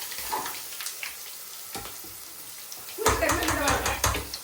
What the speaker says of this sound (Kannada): ಸ್ವಲ್ಪ ಒಗ್ಗರಣೆಗೆ ಸಾಸಿವೆ ಸಿಡಿತಾ ಇದೆ